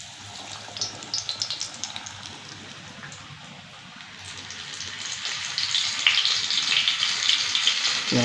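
Batter-dipped chili bajji fry in hot oil, a soft, steady crackling sizzle that builds in loudness and density toward the end.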